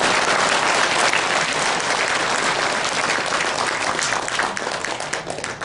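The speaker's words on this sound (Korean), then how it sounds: "여러분 뜨겁게 박수로 맞아주세요." Loud, sustained applause from a large lecture audience, dense clapping that continues throughout and tapers slightly at the end.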